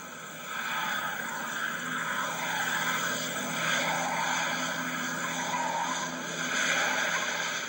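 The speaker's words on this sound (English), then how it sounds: "The Falcon is now traveling at over 90 kilometers per hour." A Ford Falcon XC car travelling at over 90 km/h gives a steady, continuous road and engine roar, with broadband wind and tyre noise at an even loudness and no speech.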